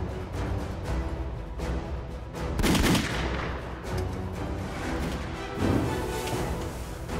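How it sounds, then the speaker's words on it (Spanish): Gunfire in a Spanish-language action film, a sustained volley of loud shots with two heavier bursts standing out, dense and close over a rumbling background with no speech. "Son balazos."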